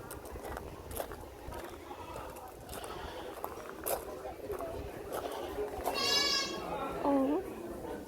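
Goats at an agricultural show give a couple of short, wavering bleats near the end, set against a busy crowd of people talking and children's voices nearby.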